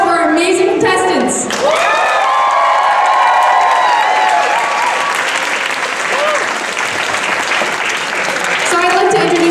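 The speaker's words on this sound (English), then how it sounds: "Can I hear some applause for our amazing contestants?" A crowd at the Godiva's Crown contestant introductions breaks into loud, sustained applause and cheering after a short stretch of talk, filling the room with dense clapping. Whoops ring out on top, and the ovation eases off near the end as a voice returns.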